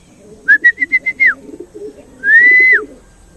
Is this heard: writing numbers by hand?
no